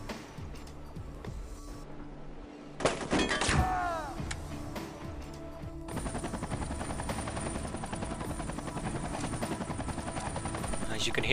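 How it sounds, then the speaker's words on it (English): A thudding helicopter drone in the video game Chaser kicks in after a sudden clunk, then loops on loudly and steadily with rotor chop and high whine due to a sound bug. "the helicopter ambient noise is banging away"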